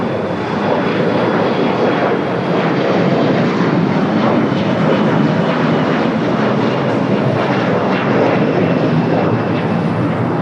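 A fixed-wing airliner landing on runway 25 Left at LAX, a loud, continuous engine roar and rushing noise held steadily throughout, close and broad with no break.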